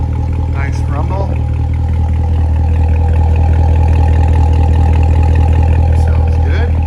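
The V8 of a 2019 Chevrolet Corvette Z06 2LZ idles close by, a steady, loud low-pitched throb with an even pulse and brief faint chirps above it.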